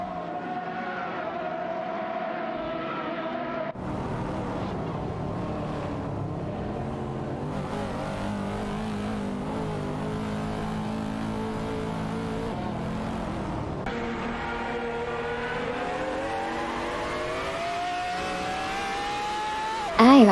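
BMW race cars in a racing video game, their engines droning and whining steadily throughout with shifting, rising pitch, loud and continuous.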